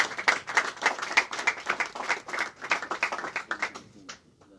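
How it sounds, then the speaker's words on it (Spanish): Applause at an award ceremony honoring an under-14 intercantonal champion team, a small group clapping in rhythmic waves close by, with a voice briefly over it before it quickly fades out. "El aplauso fuerte, por favor."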